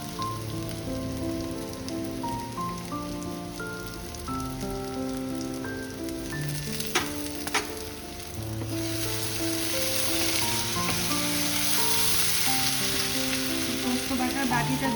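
Onions and mushrooms frying in a pan over a medium gas flame: a continuous crackling sizzle, close and steady, growing louder partway through, with soft background music playing underneath.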